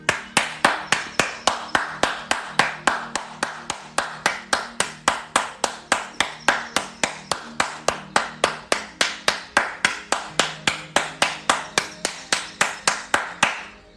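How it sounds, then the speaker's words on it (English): Applause for good news shared in a daily ritual session comes as steady, evenly spaced hand claps, about three per second, close and crisp, for fourteen seconds over a faint tonal background. "we applaud people's accomplishments and good news"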